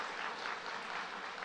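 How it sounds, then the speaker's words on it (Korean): A church congregation claps together in a brief burst of steady, fairly faint applause, with no voices over it. "다시 한번 우리 집사님께 감사의 박수를 드리겠습니다."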